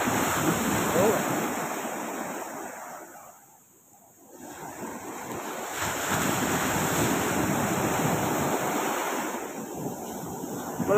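Big ocean waves roll and break in a steady roaring wash, swelling and briefly dipping before surging again, with wind buffeting the microphone throughout.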